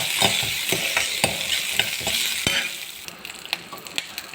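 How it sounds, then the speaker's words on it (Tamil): Ginger, garlic and green chilies frying in a kadai make a bright, continuous sizzle, broken by a regular rhythm of ladle stirs and scrapes, close and fairly loud, with sharper clinks near the end. "இஞ்சி பூண்டு பச்சை மிளகாய் போட்டு வறுத்துக்காங்க"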